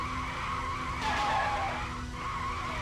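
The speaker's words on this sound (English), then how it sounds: "whenever that tire screech happens, do you guys hear like a crackliness in the game audio?" A tire screech in a racing video game: a sustained, slightly crackly squeal that swells in the middle over a steady engine drone.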